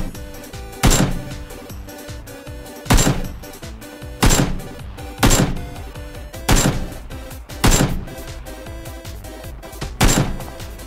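Seven heavy bursts of gunfire in PlayerUnknown's Battlegrounds on the Miramar map, spaced about a second or two apart, each a loud sharp crack over a continuous background of game music and ambience.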